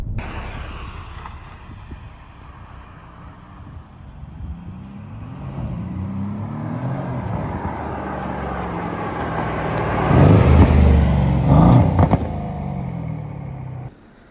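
Mercedes-AMG C63 sports car driving on the road, engine droning steadily under wind and road noise, then swelling louder into a brief rev near the end.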